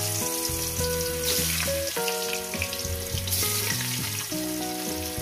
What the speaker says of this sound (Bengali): তেলটা আমার গরম হয়ে গেছে। এক এক করে মাছের পিসগুলো দিয়ে দেবো।